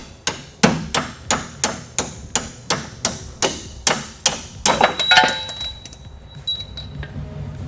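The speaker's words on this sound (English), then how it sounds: "I'll take a hammer and tap the fork because sometimes I like to seize up a little bit" A hammer taps a seized coilover fork on a car suspension, about a dozen sharp, evenly spaced metallic knocks, close and loud, ending in a ringing clang that fades out.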